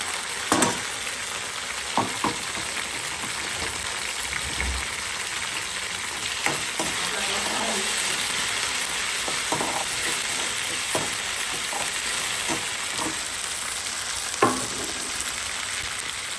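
Tomatoes sizzle and fry in a ginger-coriander paste in a pan, a continuous crackling hiss broken by repeated scraping clicks of a spoon stirring.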